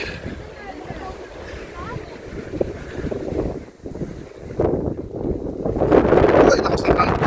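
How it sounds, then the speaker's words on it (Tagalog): Gusty wind buffets the microphone in uneven surges at Kapurpurawan, Ilocos Norte, rising stronger toward the end, with faint voices and water sounds underneath. "Ay, lakas ng hangin."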